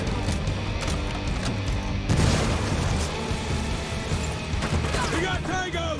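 A frag grenade goes off in the tactical shooter Ghost Recon Wildlands: a loud booming blast about two seconds in, set against steady gunfire and dense battle noise that continues throughout.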